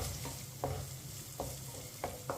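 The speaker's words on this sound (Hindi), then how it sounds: "इसे 2 मिनट के लिए चम्मच चलाते हुए भून लेंगे" Sweet vermicelli roasting in a pan over low heat, stirred with a spoon: a steady soft sizzle with several distinct scraping strokes of the spoon at irregular intervals, close and alone with no voices.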